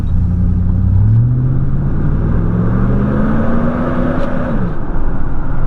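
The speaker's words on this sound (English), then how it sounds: "Once we accelerate, you really hear that fan fire up." A 1999–2004 Chevrolet Silverado with a 4.8 or 5.3 V8 accelerating, its engine fan clutch roaring louder as engine tone climbs in a smooth rising sweep, loud and close, then easing off near the end.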